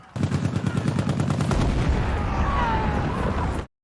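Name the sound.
war movie gunfire and grenade explosion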